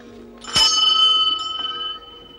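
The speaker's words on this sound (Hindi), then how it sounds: "अच्छा हम अब घंटी बजाएं।" A temple bell is struck once, giving a bright metallic clang that rings on with a clear shimmering tone and fades over about a second and a half, with no talk.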